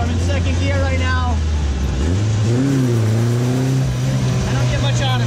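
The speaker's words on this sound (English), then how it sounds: "He doesn't rip very hard, so I'm in second gear right now." A right-hand-drive dune buggy engine in second gear in St. Lucia, a loud continuous mid-pitched drone that rises and falls as it revs, with wind and a voice talking over it.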